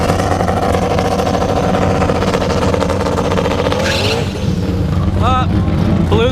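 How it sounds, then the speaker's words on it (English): A 700 whp turbo B20 EK Honda Civic roars loudly and continuously as it spins its tires at a test-and-tune drag event, followed by screeching tire squeals near the end and talk over the top. "Blew the tires off."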